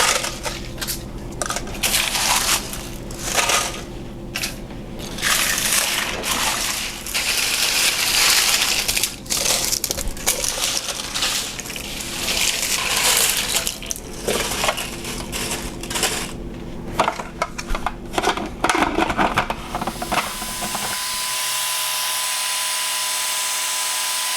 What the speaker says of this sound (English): I'm just going to put it through the food processor and put it in jars